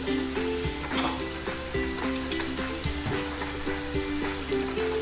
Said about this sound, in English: So now I fry the onions.